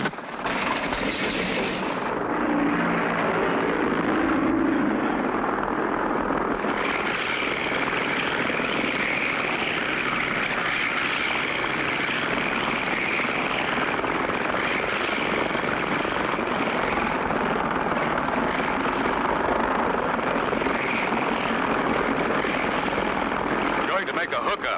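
Cartoon airplane engine drones steadily as the plane takes off, a loud continuous propeller roar holding for the whole stretch after a brief rising start, with a voice speaking over it early on.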